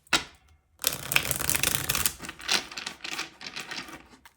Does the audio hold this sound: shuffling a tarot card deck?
yes